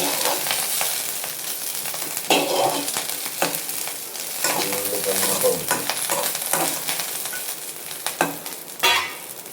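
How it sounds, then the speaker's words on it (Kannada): Curry leaves fry in a pan for chicken sukka, giving a loud, dense sizzle close by. Stirring scrapes and clatters come and go throughout, and no one speaks. "ಕರಿಬೇವು ಸ್ವಲ್ಪ ಫ್ರೈ ಮಾಡಬೇಕು"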